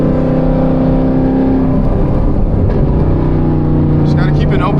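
Chevrolet Camaro ZL1 warming up on the road after a new tire install, with a steady loud engine drone and a brief rise in revs as it cruises along.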